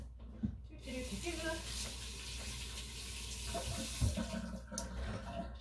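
Water runs steadily from a newly replaced kitchen faucet while a mushy cucumber is rinsed under it. Brief clunks and handling noises sound against the continuous flow, with no talk.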